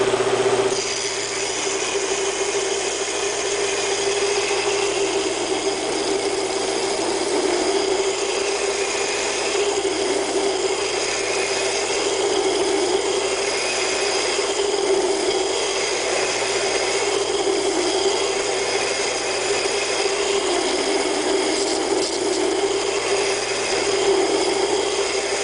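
A double wheel hollow grinder rough-grinds a quarter-inch-thick, inch-wide steel razor blade before heat treatment, a steady loud whirring drone with a harsh grinding hiss that swells and eases in slow passes, continuous throughout with no talk.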